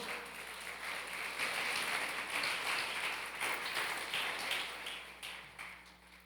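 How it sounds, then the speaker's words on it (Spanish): A church congregation applauds, steady dense clapping at moderate volume sustained throughout and easing slightly toward the end. "Dale un aplauso a Dios, por favor"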